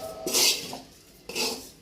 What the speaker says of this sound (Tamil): இதெல்லாம் நல்லா மிக்ஸ் பண்ணி விட்டுக்கலாம்